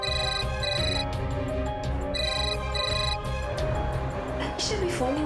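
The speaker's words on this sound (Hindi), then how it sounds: "तनीषा भी फोन नहीं उठा रही है।" A phone ringtone plays on in a repeating melodic pattern while a call goes unanswered, set under steady background music and voices in a TV drama scene.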